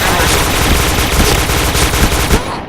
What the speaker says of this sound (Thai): เสียงปืนใครวะเนี่ย